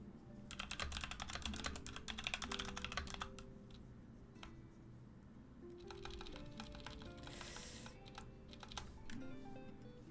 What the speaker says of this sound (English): let me finish typing this go live tweet